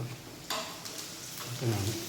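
Fish frying in a pan on a home stove for a shark curry and fried mackerel lunch, a soft steady sizzle with a few light stirring scrapes, fairly quiet in the background.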